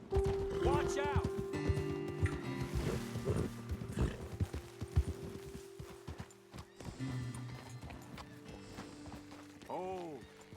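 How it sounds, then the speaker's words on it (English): Horses in the Red Dead Redemption 2 video game clip-clop at a fast gallop with rhythmic hoofbeats, tack jingling and a couple of whinnies, close by, while people talk over them. "Best leave the horses back a bit."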